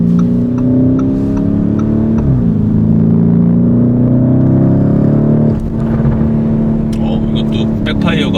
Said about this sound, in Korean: 이것도 백파이어가 터지네. 팝콘.